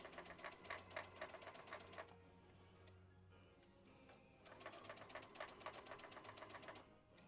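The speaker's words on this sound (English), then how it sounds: "I hope this sewing machine isn't that loud" A sewing machine stitching fabric in quick rhythmic bursts of needle clatter, pausing for a couple of seconds between runs, faint and close.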